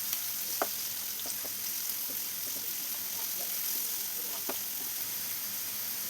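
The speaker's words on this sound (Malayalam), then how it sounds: "ഇതെല്ലാം നമുക്കൊന്ന് മറിച്ചിട്ട് കൊടുത്ത് ആ സൈഡും കൂടെ ഒന്ന് ഫ്രൈ ചെയ്തെടുക്കാം." Bitter gourd pieces fry in a pan with a soft, continuous sizzle and a few small clicks and taps as they are turned.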